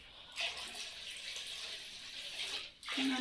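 Water runs steadily from a tap into a pot for boiling, a continuous splashing flow that stops briefly near the end before resuming.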